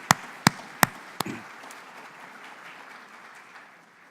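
A few sharp, separate claps open the moment at a lecture anniversary event. They quickly thin into a faint, scattered patter of audience applause that fades away.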